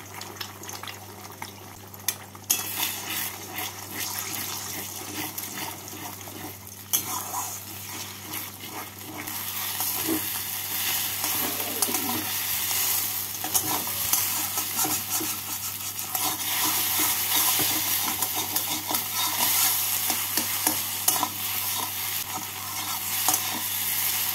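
Eggs scramble in hot oil in a pan for a Bengali ridge-gourd recipe, a steady hissing sizzle with intermittent scraping and stirring of the spatula, close and continuous throughout.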